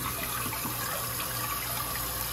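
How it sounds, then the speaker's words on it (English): A toilet tank fills after its water supply is turned on during a fill valve replacement, a steady close rushing and hissing of water that holds level throughout with no voices. "you just turn the water on"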